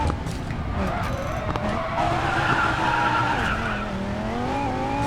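A car drifting through a corner in the Racing Master video game, with loud tires screeching and skidding over a revving engine whose pitch climbs and falls as the slide continues.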